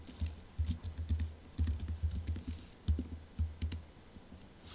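Fast, steady typing on a computer keyboard, close and fairly quiet, with keys pattering in short uneven bursts and no talking.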